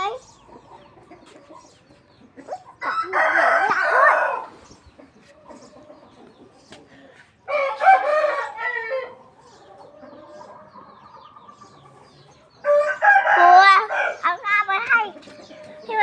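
Three bursts of chicken calls, with crowing-like cries separated by quieter stretches, fairly close, over low background talk.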